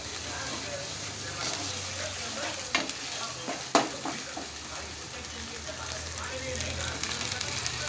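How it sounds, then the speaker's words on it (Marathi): A paste of ginger, garlic, onion and tomato fries in a pan for homemade chicken masala, with a steady, quiet sizzle. A few sharper scrapes and knocks come from the stirring. "अद्रक, लसूण, कांदा, टमाटरची पेस्ट आहे ती छान भाजून घ्यायची."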